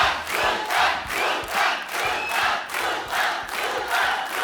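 A studio crowd at a Kapil Sharma comedy show roars and cheers to welcome Salman Khan, a loud, pulsing wave of voices that swells and dips in steady surges, with no talk over it.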